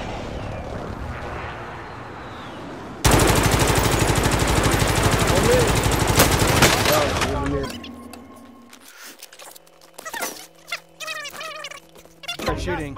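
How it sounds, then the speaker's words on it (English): Gunfire in a shooter video game, a loud sustained burst of rapid automatic fire for several seconds, followed by sparser shots and clatter while a player talks over it. "They're shooting."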